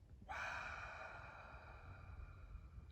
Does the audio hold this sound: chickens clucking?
no